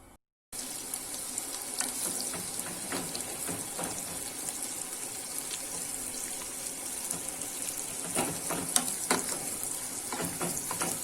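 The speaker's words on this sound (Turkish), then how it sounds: "Evet soğanlarımız kavruluyor." Onions frying in oil with a spoonful of butter in a pan, a steady close sizzle with occasional stirring scrapes and pops throughout, no voices.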